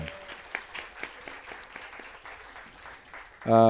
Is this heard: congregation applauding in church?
yes